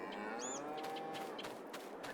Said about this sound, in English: And moo to you too.